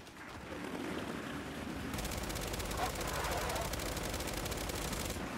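Rapid turret machine gun fire in the Gears 5 video game pours out in a dense, continuous barrage that grows louder and brighter partway through, with voices talking over the gunfire.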